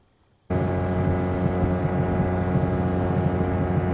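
A 9.9hp two-stroke Mercury outboard motor starts abruptly after a brief silence and runs at a loud, steady drone with a buzzy, even tone.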